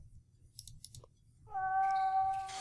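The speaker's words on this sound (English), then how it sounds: "Hear the cat." A few small clicks, then a single loud, drawn-out meow from a cat trapped inside a wall in the video game The Last Door.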